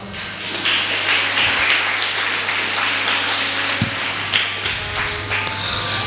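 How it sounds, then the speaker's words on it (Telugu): A church congregation at Sunday worship claps loudly together, a dense, sustained round of applause with scattered sharper claps and a low hum underneath. "ఒకసారి గట్టి చప్పట్లు పెడదామా?"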